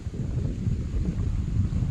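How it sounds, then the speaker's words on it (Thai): Strong outdoor wind on a cold, dry day buffets the microphone in a steady low rumble with gusty swells, continuous throughout and with no voices. "นี่ก็มากับสายลมครับโอ้ลมแห้งพี่น้อง"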